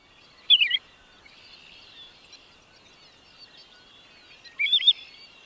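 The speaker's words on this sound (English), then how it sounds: "golden plover." Two short, high bird calls attributed to a golden plover, each a quick cluster of chirpy notes about four seconds apart, clear against a quiet, faintly hissy outdoor background.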